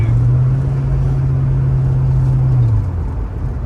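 A 1994 Ford Mustang GT 5.0 V8 fitted with a new idle air controller holds a steady, loud engine drone at elevated revs, then the revs drop near the end, with no talk.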